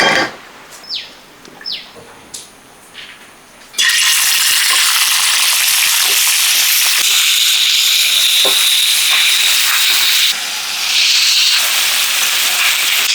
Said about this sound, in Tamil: சிக்கன் விங்ஸ் வந்து டுவெண்ட்டி ஃபைவ் மினிட்ஸ் நல்லா மெரினேட் ஆகிருச்சு கொஞ்சம் வறுத்து எடுத்துக்கிறோம்